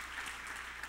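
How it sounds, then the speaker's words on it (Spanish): Church congregation applauding during a sermon, a steady wash of clapping that fills the brief moment at moderate volume, with no voices standing out. "Dale un aplauso a papito Dios."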